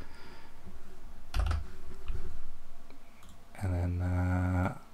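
A short patter of keystrokes on a computer keyboard as text is entered for a World of Tanks thumbnail, quick clicky taps in two brief bursts, with a voice speaking between and over them.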